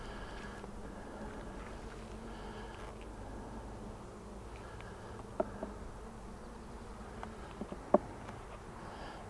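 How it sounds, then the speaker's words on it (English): Honeybees in a hive colony during queen rearing hum in a faint, continuous buzz, with a few soft knocks and clicks near the end. "Few more bees in this colony."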